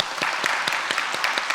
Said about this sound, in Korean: 하나님께 박수하겠습니다